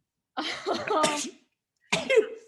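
Two abrupt sneezes burst out close by, one after the other with a short pause, the second ending in a breathy vocal tail.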